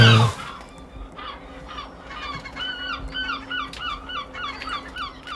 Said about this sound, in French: on aperçoit un nid avec deux jeunes oiseaux